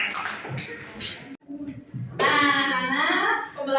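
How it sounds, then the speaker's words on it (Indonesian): A brief burst of children clapping hands in a classroom during a maths and coding lesson, with kids' voices and chatter around it. "Tepuk tangan."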